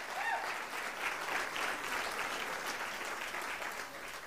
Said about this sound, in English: Can you give God a hand clap for that?